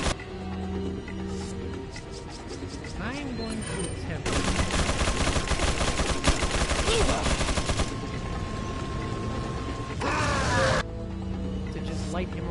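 Gunfire bursts loud and dense from a shotgun in Resident Evil 4, repeated blasts across the middle stretch with music and game sounds around them.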